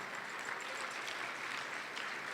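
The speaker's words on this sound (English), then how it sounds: "I want you all to please give them a round of applause." Distant, fairly faint audience applause at a 2017 charity gala, a soft continuous patter of many hands clapping for a couple of seconds, with no talking over it.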